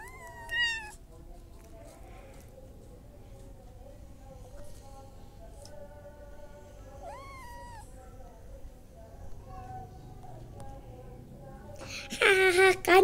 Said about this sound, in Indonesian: ada kucing betulan